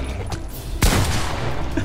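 Gunfire in the co-op shooter game GTFO: one loud burst of shots strikes near the middle and the echoing report lingers, with no talk over it.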